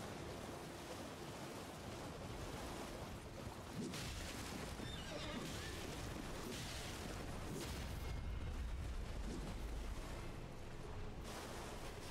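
A horse in the Elden Ring video game whinnies loudly several times over a steady rushing ambient wash, with a low rumble late in the sequence and no talking.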